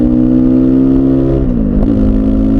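A motorcycle engine with an aftermarket exhaust revs loudly and steadily up close, with a deep throaty drone that dips briefly before rising again.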